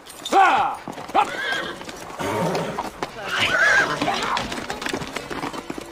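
Horses whinny and hooves clop in a film scene about a long journey on horseback, with a sharp neigh near the start and steady hoofbeats beneath, plus some background voices and ambient noise throughout.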